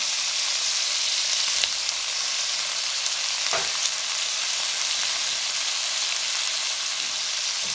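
Chana chaat ingredients with tomato ketchup fry over a low flame in a steady, even sizzle and crackle, with a couple of faint stirring scrapes and no voices.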